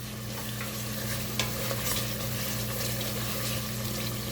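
Mutton fries in a pot with whole garam masala spices such as cinnamon, black pepper, cloves and green cardamom, giving a steady close sizzle and bubbling with occasional soft stirring scrapes, no talking.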